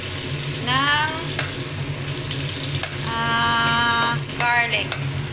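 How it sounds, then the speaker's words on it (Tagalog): Garlic frying in a pan for garlic shrimp pasta, a loud steady sizzle with scraping stirring strokes throughout, close up and without talk. "Magluluto ako ng bawang. Ipaluto-luto natin siya konti."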